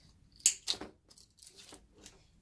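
Scissors cutting a tag on a handmade corn husk wreath, a few short crisp snips and rustles, close and fairly quiet, with no talking.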